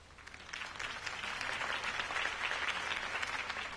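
A crowd applauds a mayoral campaign speech in the video game Telltale's Batman, a dense, steady wash of clapping that swells slightly and holds for several seconds without a break.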